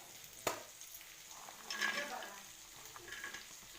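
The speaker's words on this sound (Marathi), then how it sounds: "आपण कांदा काढून घेऊया आणि त्याच्यातच खोबरं भाजून घेऊया" Grated coconut roasting in a little oil in a pan where onion was just fried, giving a soft steady sizzle with a sharp clink near the start and a louder burst of frying and stirring midway.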